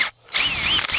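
A power drill fitted with a brand-new bit whines loudly and steadily, running in two bursts with a brief pause between, close to the listener, during work on a mini split installation.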